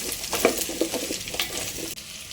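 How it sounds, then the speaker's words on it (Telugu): Green chillies and curry leaves sizzle in a pan while being stirred for a drumstick sambar, a brief close crackling fry with several soft scraping strokes and no talk. "అలాగే పచ్చిమిర్చి కొద్దిగా కరివేపాకు వేసుకొని బాగా కలుపుకోవాలి."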